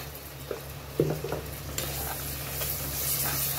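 Browned onions and mutton biryani mixture stirred in a pot, with scraping clinks of a spoon against the metal over a steady low sizzle, close and moderately quiet.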